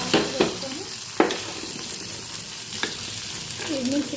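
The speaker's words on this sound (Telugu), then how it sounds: "కొంచెం జీలకర్ర, కొంచెం వాము, కొంచెం నెయ్యిలో వేసి తాలింపు వేస్తున్నాను." Cumin and ajwain seeds sizzle in hot ghee for a tempering, a steady soft crackle broken by a few sharp spoon clicks against the pan.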